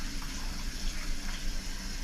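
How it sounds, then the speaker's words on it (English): Cold tap water runs over a fish fillet in a kitchen sink, a steady close splashing gush with slight fluctuations and no talking. "Keep that under some cold water."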